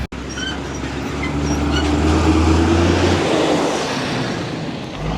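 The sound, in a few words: bus passing in the street in Cuba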